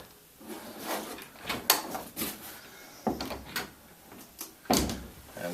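A folding closet door is shifted and adjusted into place, producing a series of irregular wooden knocks, clunks and sliding rubs, close and moderately loud, with short gaps between bursts.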